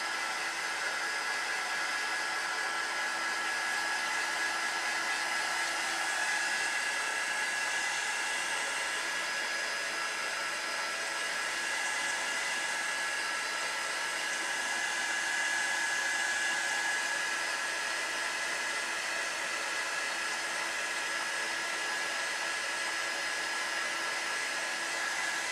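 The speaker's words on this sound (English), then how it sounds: "Let me dry that real quick with the heat gun." A heat gun drying a craft project, blowing as a steady loud whooshing hiss with a faint whine, continuous and close throughout.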